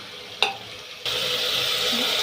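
Cut jackfruit pieces dropped into hot oil with spices, starting as a quieter sizzle with a brief clatter and then jumping to a loud, steady frying hiss as they hit the pan, close up with no voices.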